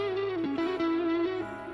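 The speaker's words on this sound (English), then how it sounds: "First thing we're gonna do is add the blues note." Electric guitar plays a short pentatonic run with the added blues note, run through distortion and chorus effects, sustained notes sliding between pitches for a couple of seconds without talk.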